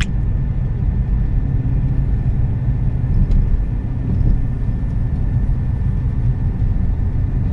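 A car passes on a road during a rest stop near Riyadh, a steady low rumble of engine and tyres that swells slightly mid-way and holds near and fairly loud throughout.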